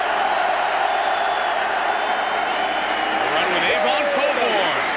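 A stadium crowd roars continuously at a college football game, Virginia Tech Hokies against West Virginia Mountaineers, a broad swelling din that builds slightly toward the end with whoops rising from it.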